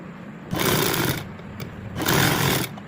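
A sewing machine stitches a slit patti on a kurti in two close, loud buzzing runs of rapid needle chatter, separated by a brief pause.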